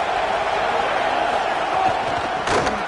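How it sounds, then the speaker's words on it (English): Stadium crowd at a Virginia Tech vs Georgia Tech college football game roars steadily and loudly, with a commentator speaking over the noise. "Listen to this crowd just shaking the girders of this place, trying to help their defense."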